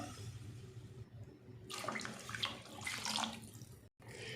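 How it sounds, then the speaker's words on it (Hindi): Water is poured into a cooking pot for kala chana pulao in a rushing, splashing stream. The flow swells and fades over a few seconds, then cuts off briefly near the end. "2 कप हमारे पास चावल हैं तो हमने 4 कप इसमें पानी डालना है।"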